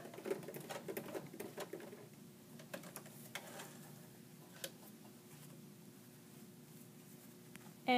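A sewing machine stitches a pant pocket and reverses at the end, giving a quiet, rapid mechanical patter that runs in short bursts before fading into a softer, steadier hum.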